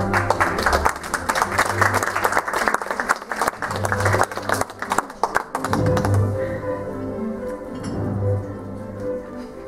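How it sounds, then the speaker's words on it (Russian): An audience at an award ceremony for young competitors from a children's art school applauds loudly. Dense clapping fills the first six seconds, then thins into scattered claps under a low hum and faint voices. "Будем всем аплодировать очень громко."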